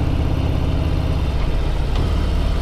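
A 2018 Harley-Davidson Breakout heard from on board, its engine a loud, steady low-pitched drone that holds throughout with only slight changes in pitch.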